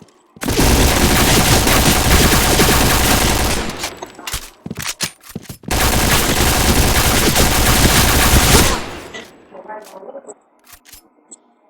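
Bursts of sustained automatic gunfire from a video game, two long dense volleys separated by a brief gap of scattered single shots, loud and close, then a fading tail.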